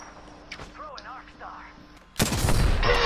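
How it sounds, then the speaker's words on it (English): Gunfire in Apex Legends, a burst of loud, close shots that erupts near the end after quieter game sounds and brief voice-like tones. "Shooting a gun randomly"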